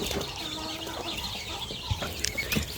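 Chickens cluck in a farmyard, with scattered short clucks and peeps over a steady bed of outdoor background noise.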